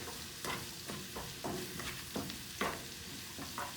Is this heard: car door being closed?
no